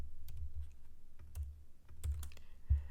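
Computer keyboard typing in irregular bursts of soft clicks and key taps, close and alone during a programming lesson, with short pauses between clusters.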